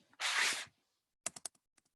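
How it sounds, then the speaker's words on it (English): Several quick keystrokes on a computer keyboard, a short burst of clicks after a louder broadband rustle at the start, close and fairly quiet in a calm room. "I can type it here."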